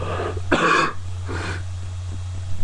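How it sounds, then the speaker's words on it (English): Two raspy coughs sound close by, about a second apart, followed by quieter throat noises. "I do have a bit of a cough right now"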